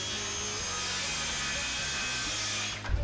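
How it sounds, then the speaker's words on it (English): A circular saw guided along a clamped straight bar cuts a wooden picnic table top, making a steady, loud, buzzing whine that holds for about three seconds before winding down. "I'll be clamping down this straight bar just so I can get a nice accurate cut with my circular saw."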